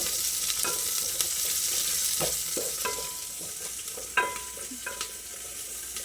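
Steady crackling sizzle of tempering spices frying in hot oil, with occasional stirring scrapes and clinks from a pan, no talking.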